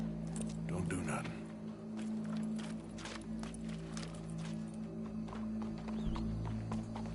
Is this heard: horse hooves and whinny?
yes